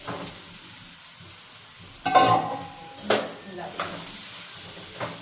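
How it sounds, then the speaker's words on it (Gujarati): Grated bottle gourd tipped into hot ghee in a pan for halwa, a sudden soft sizzle followed by a few stirring scrapes and a clink of a spoon against the pan, close and without talk. "હવે એમાં આપણે આ જે દૂધી છીણી છે એને એડ કરી દેશું."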